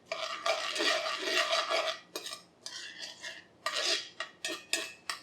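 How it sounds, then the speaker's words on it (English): Seeds toasting in a pan for a cactus pear mostarda, stirred with a utensil that scrapes and clinks against the metal in a steady run of close scratchy strokes, then shorter separate scrapes near the end. "So just toast your seeds just a bit."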